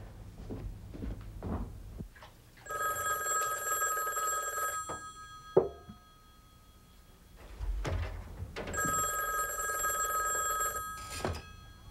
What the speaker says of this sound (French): Je vais appeler Bernard, puis je vais lui demander le plan de la soirée.